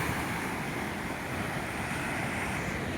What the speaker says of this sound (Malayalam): തിരമാല അത്ര കുഴപ്പമില്ലാത്തതാണ്.